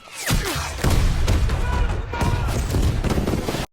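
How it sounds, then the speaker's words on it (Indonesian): Dense bursts of gunfire mixed with booming blasts, continuous and loud over a few seconds, with faint voices underneath. "Saat terdengar suara tembakan dan ledakan"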